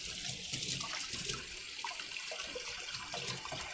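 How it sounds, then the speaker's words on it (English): Tap water runs steadily into a kitchen vessel as it is rinsed out, a constant close splashing rush with small shifting gurgles and no voices. "Rinse out this vessel here and use this for my breadcrumbs."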